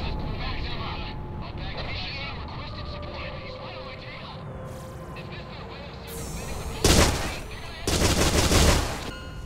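Gunfire in Ace Combat 6, with rattling bursts of rapid shots over a droning aircraft and battle backdrop, including two loud, sharp volleys near the end.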